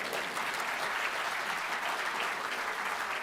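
A crowd of mourners at a memorial service breaks into applause, steady and continuous hand-clapping spread across the room, moderately distant and fairly soft throughout.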